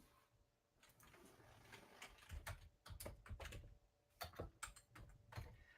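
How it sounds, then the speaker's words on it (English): Quiet, fast typing on a computer keyboard, with irregular bursts of close key clicks separated by short pauses and a faint steady room hum. "I'm typing in something else on my computer."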